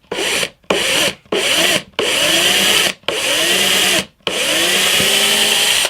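Power drill boring a 2.5 mm screw hole into a guitar body, running in five or six close, loud bursts with brief pauses between, the bit grinding steadily through the wood each time.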